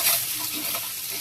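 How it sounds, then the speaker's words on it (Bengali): Eggs sizzle and crackle steadily in a hot frying pan, close and continuous, with a brief stirring scrape. "এখন ডিমগুলো ভেজে নিতেছি"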